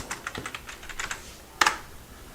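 Quick typing on a computer keyboard, light key clicks in an uneven run followed by a louder cluster of taps near the end, close and alone.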